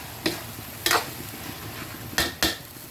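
A spoon stirring beef papaitan stew in a pot, four short scraping clinks spaced irregularly over a soft background simmer.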